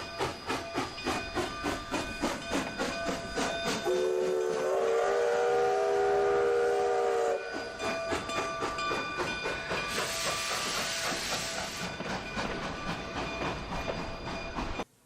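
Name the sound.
steam engine pulling train with engine coupled behind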